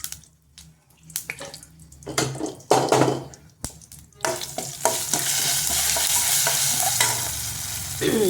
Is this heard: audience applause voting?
no